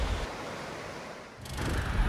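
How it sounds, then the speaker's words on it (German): Ocean waves washing onto a beach in Thailand, a steady broadband surf wash that dips briefly and then swells louder again, with no voices present. "abends das Meeresrauschen zu hören"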